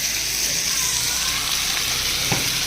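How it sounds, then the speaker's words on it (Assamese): Chicken pieces deep-frying in oil in a pan, part of a 4 kg batch cooked at home, make a loud, continuous close-up sizzle and crackle with a brief stirring knock near the end. "মাংসটো আমাৰ পুৰা ফ্ৰাই হৈ গ'ল"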